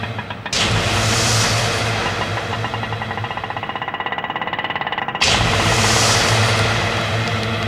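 An auto rickshaw's small engine rattles close by, pulls away with a steady revving drone, briefly drops in pitch, then surges louder again; no one speaks.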